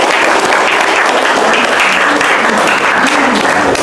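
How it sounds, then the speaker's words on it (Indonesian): An audience claps loudly and continuously, a dense, even roar of many hands filling the room for a few seconds without letting up. "tepuk tangan dong buat kita semua"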